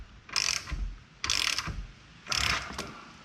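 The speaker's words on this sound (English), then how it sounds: "I'm going to break through these caliper bolts, break them loose with a 15 millimeter half-inch drive" A half-inch drive ratchet with a 15 mm socket clicks hard in three separate bursts while breaking loose caliper bolts on a Can-Am Defender Limited UTV, loud and close with short pauses between.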